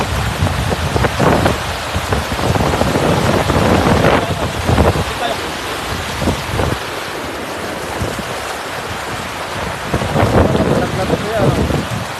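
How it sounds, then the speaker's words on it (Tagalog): Heavy rain pours down steadily and loudly during a net-fishing outing, with deep thunder-like rumbles and splashing surges running through the whole downpour. "Kunin natin yung ulan."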